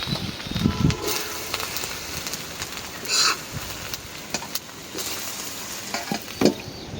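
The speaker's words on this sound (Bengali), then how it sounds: "শুকনো মরিচ ছিঁড়ে দিলাম, দিয়ে দিলাম পেঁয়াজ মরিচ।" Dried chilli, onion and green chilli frying in hot oil in a pan used for frying rohu fish roe, a soft steady sizzle with occasional crackles and brief stirring clatter, moderately close with no voices.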